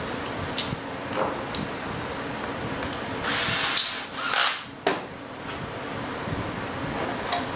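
A power drill whirs in short bursts while cutting a Kevlar fuel tank, rising to a louder grinding whine for a few seconds amid background clatter.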